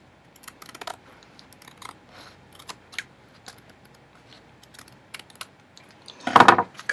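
Scissors trim a gelli-printed denim pencil case, with sparse light snips and handling clicks up close and a louder burst of cutting near the end, no voices.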